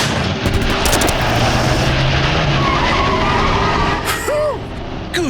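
A truck speeds off with tires skidding, a loud roaring engine and screeching rubber filling the scene continuously, with brief squeals near the end.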